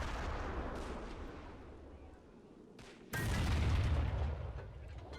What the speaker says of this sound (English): Love watching this artillery work, though.